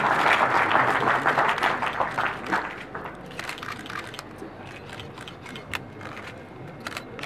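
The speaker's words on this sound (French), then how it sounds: "Que vous pouvez applaudir, c'est signé." An audience at an economic forum opening in Fès claps loudly as a cooperation agreement between two municipalities is signed. The applause is strongest at first, then thins to scattered claps mixed with camera shutter clicks.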